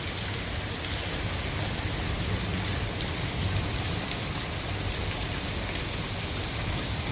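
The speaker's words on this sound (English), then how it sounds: "now the hail is mixing in with the heavy rain." Heavy rain mixed with hail pours down in a Northwoods storm, a dense, steady roar with no break and no talking.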